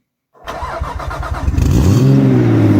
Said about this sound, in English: So it's time to start the engine.